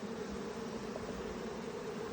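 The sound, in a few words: honeybees buzzing inside a hive box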